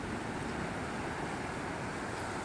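Sea waves washing onto a beach at Tondol Beach in Pangasinan, a constant loud rushing wash with wind buffeting the microphone, no voices.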